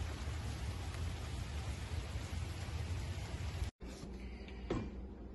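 Continuous heavy rain at home with a dense, even hiss throughout, then a brief cut and quieter rain with a faint knock near the end.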